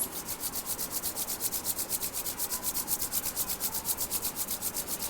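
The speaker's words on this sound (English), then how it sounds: "Rub till it feel warm." Two palms rubbed briskly together, a close, steady back-and-forth swishing with even rhythm throughout, no voices.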